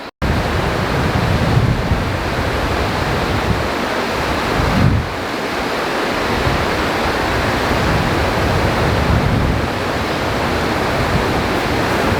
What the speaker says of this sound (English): get a more zoomed in shot of slow motion of the waterfall